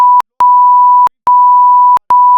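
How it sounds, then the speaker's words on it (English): A loud pure-tone censor beep sounds in three long sustained bursts separated by short silent gaps, fully replacing the speech beneath it. "Yeah, I'm beeping the fuck out of that."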